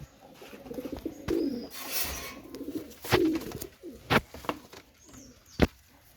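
Pakistani Teddy pigeons, a pair of Teddy birds, give soft low coos in short bursts, close by, with a few sharp clicks and knocks between them and no talking.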